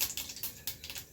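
Mustard seeds crackle in hot oil, a faint series of quick irregular pops and spatters with no voices.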